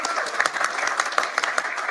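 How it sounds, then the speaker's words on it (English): An audience breaks into applause at an event celebrating a coach declared cancer-free, a dense burst of many hands clapping with sharper individual claps standing out, continuous across the short moment. "You can clap. It's okay."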